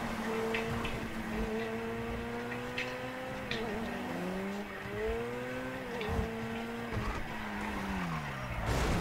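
A sports car engine in GTA 5 revs up and down through shifting gears, steady and prominent for the whole stretch with brief tire squeal, with no speech over it.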